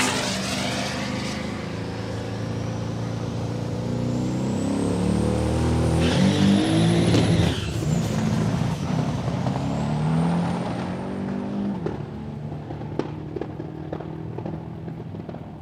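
A little Volkswagen Golf makes a drag racing run at Palmyra Raceway, its engine revving hard and loud with a rising, shifting whine that swells and then fades, crowd and track noise around it and no talk.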